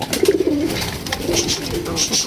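Pigeons at a pigeon farm give soft, close throaty coos in short rolling phrases, with a few repeated calls over light background noise.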